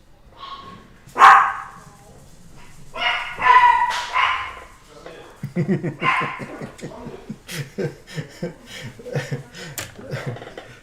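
Several pet dogs bark indoors in excited bursts, starting with a few sharp yaps and building into a rapid run of barks and yips, close and loud.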